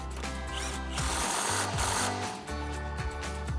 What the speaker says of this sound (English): grab our impact and 18mm socket and tighten that down